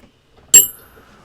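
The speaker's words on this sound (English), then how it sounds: "Did I break the bell?" A single bright bell strike rings out loud and close, with a sharp attack and a short metallic ring that decays within about half a second.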